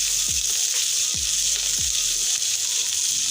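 Dried red chillies fry in a pan with a steady, dense sizzle that carries through the whole clip, broken by a few soft low knocks, with no talking.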